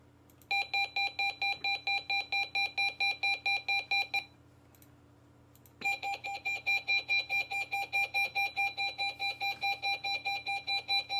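Real-life test alert tone of a RadioShack 12-255 weather radio: a long, rapid train of loud, evenly pulsed beeps, pausing briefly mid-way and then resuming at the same steady rhythm, close and alone over a low hum.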